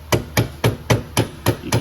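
A hammer taps a rear wheel bearing seal into a Honda TRX90 ATV hub: seven sharp, evenly spaced metallic knocks, close and loud.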